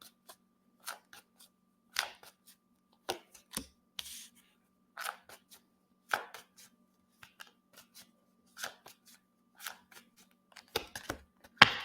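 A deck of tarot cards being shuffled, with crisp, quiet riffles and snaps in irregular bursts over near silence and a faint steady hum.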